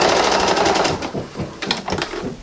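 A sewing machine backstitching the elastic casing on pajama pants, a loud, close, rapid mechanical whir that stops briefly and resumes in short bursts, with no talking.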